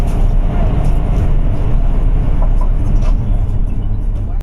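Steady low rumble and rolling noise inside a Beijing–Shanghai bullet train cruising at 350 km/h, a continuous loud drone with no talk.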